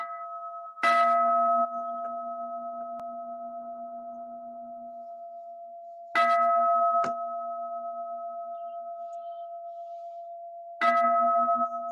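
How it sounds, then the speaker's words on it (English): A meditation gong or bell is struck three times at long, even intervals during a yoga session, each stroke a bright clear hit that rings on with a long sustained decay in an otherwise quiet room. "the gong has called us to collect our energy and attention here and now"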